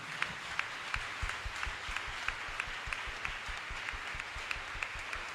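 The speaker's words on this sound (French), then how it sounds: "Est-ce que tu peux encore dire merci à Dieu à travers tes acclamations?" Congregation at a church worship service applauding and acclaiming in praise, a sustained wash of many hands with sharp individual claps standing out, steady and fairly loud throughout, with no clear speech.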